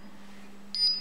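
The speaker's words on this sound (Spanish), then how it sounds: "Y vamos a ver cómo se conecta la alarma." A Paradox EVO192 alarm keypad gives a single short, clear electronic beep while the system arms, after a quiet stretch with a low steady hum underneath.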